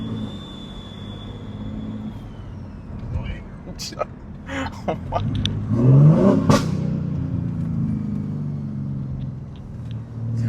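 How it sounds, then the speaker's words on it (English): Single-turbo BMW G80 M3 making about 900 horsepower pulling hard from inside the cabin, a steady engine rumble with a rising turbo whine and whoosh, and a passenger exclaiming briefly over it. "So like all you gonna hear is just a turbo."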